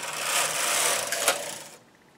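A knitting machine carriage slides across the needle bed in one continuous, fairly quiet swishing pass that swells, peaks with a faint click, then fades out as the carriage comes to a stop.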